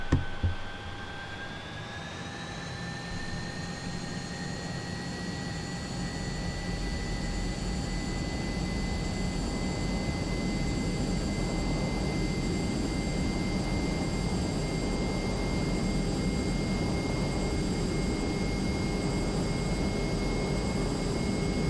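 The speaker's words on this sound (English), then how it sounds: "Reasonably long takeoff run in the Hunter" A Hawker Hunter jet on its takeoff run in a flight simulator, the engine roaring steadily and loud throughout with a high whine that rises in pitch over the first few seconds, then holds as broadband rumble builds.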